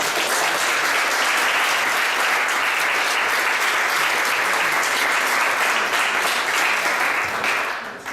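A crowd applauds steadily and loudly throughout at an awards ceremony, a dense patter of many clapping hands that tapers off slightly at the end.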